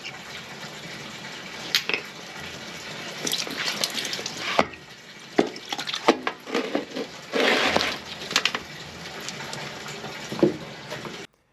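Water runs from household taps and drains away during a night callout to clear a blocked toilet drain, a steady rushing wash with splashes and gurgling surges, fairly near and with no talking.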